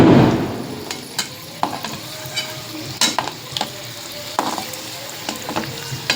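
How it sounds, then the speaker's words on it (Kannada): Kadubu dumplings fry gently in oil over a low gas flame, a steady soft sizzle broken by occasional clinks of a utensil against the pan. "ಗ್ಯಾಸ್ ಲೋನೇ ಇಟ್ಟೆ ಫ್ರೈ ಮಾಡತ್ತೀನಿ, ಫಾಸ್ಟ್ ಬೇಡ"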